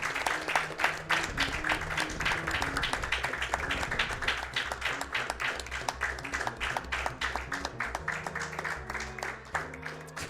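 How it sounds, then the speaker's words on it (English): Steady, dense clapping from a crowd at a live speedrunning event carries on without pause, with music playing underneath throughout. "Give him a big round of applause"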